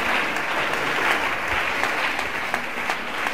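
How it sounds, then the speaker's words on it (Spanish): A church congregation applauds during an evangelism sermon, a steady, fairly distant patter of many hands clapping with no voices on top. "Den un aplauso a Él por esa razón, hermano."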